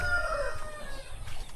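Chickens and a rooster on a native chicken farm, crowing and clucking steadily through a short stretch over a continuous low background rumble, with no talking.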